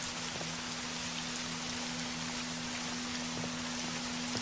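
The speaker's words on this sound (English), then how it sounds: "Why is there raining sound?" Rain effect inside the video game Escape Mall, a steady dense hiss of falling rain that continues unbroken and fairly loud throughout, with a faint constant hum beneath it.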